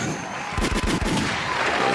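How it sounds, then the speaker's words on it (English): A gunshot sound effect played during a podcast: a cluster of sharp, loud bang-like bursts in quick succession over steady background noise. "Remy is definitely a gunshot."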